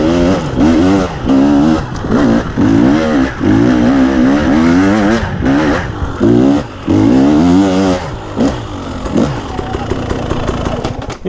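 A KTM TPI two-stroke engine, just repaired after bogging from a faulty pressure sensor, revs repeatedly in loud, rising and falling bursts that hold steady for stretches.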